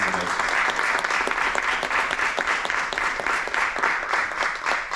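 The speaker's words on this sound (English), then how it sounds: "please give a round of applause for our three candidates" An audience at a city council candidate forum in a theater applauds three candidates, steady dense clapping from many hands sustained throughout at moderate volume.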